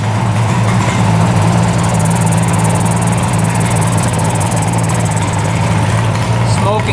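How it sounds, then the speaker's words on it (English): A 1975 two-stroke triple engine, revived after sitting for 40 years, runs at a steady loud idle with a constant low rumble and no pauses, close by and alone. "Engine sounding really good."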